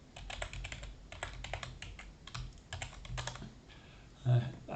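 Rapid bursts of keystrokes come from a computer keyboard as code is typed, with short pauses between clusters and a brief louder thump near the end.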